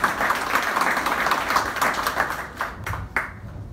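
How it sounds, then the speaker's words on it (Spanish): Audience applause for an honoured guest at the opening of a table-grape export campaign in Ica, a dense round of clapping that thins out toward the end into a few scattered claps. "Los aplausos también,"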